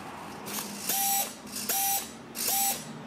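Stripped servo gears on the right aileron of an Eachine Flying Fish RC plane ratchet and grind in three repeated mechanical bursts, each ending with a thin whine, close and clear with no talk.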